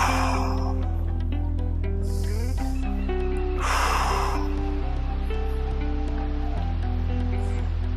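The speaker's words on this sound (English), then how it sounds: "And just breathe." Deep, slow breaths come as two soft, airy swells during a hip stretch, half-buried under steady, loud background music.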